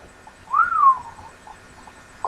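A single rising-then-falling whistle in a zombie video game set in an underground tunnel, one clear tone heard alone against quiet background.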